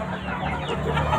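Chickens cluck on a farm raising Arab and other native breeds, a busy flock of overlapping clucks heard nearby in a continuous, moderately loud chorus.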